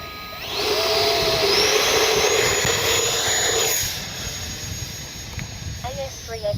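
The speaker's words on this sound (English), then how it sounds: "50 millimeter EDF, running on a 1500 4S RC Hackers, and we're going to take off in self-level" A 50mm electric ducted fan BAE Hawk RC jet on a 4S battery spools up to a loud, steady whine for about three seconds as it takes off, then fades and sits under wind noise and a brief voice.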